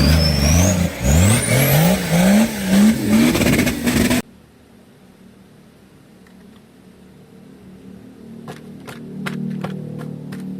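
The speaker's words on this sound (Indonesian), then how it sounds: "Wow, mobil jeep militer." A military jeep engine revs hard in a loud, close burst of rising and falling whines for about four seconds, then cuts off abruptly, leaving a quiet low rumble with a few faint clicks.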